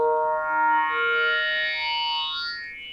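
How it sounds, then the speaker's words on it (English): An Arturia MicroFreak vocoder has its filter frequency swept upward, a buzzy harmonic synth tone whose stacked overtones glide steadily higher for about three seconds before cutting off, rather quiet and alone. "now we can hear the structure of the individual vocoder filters."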